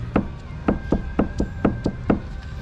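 A loose rudder bush on a sailboat knocks in a steady series of about ten sharp, close wooden-sounding clunks, roughly two to three per second.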